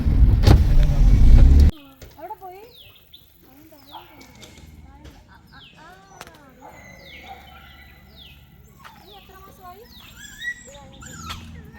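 Dogs left in a forest area and fed fish by a passer-by make short, intermittent whimpering and yelping calls, fairly close but not loud. A heavy rumble of a nearby engine or vehicle comes first, then the calls follow over quiet background noise.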